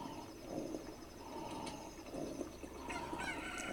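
A Cucco chicken in the video game The Legend of Zelda: Ocarina of Time clucks and crows repeatedly, faint, fowl calls recurring in short bursts over a soft background.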